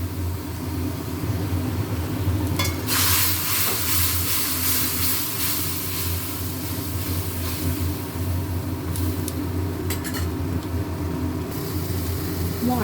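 Fried onions with salt, turmeric and a mustard-poppy seed paste cook down in a pan, a loud broadband hiss that surges in after a few seconds over a constant low hum, with short crackling flares and no talk.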